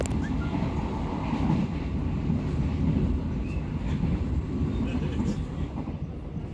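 The Gaya Baru Malam Selatan passenger train rumbles steadily along the rails at about 95 km/h, a constant loud low roar with faint rattling, heard from inside a moving carriage.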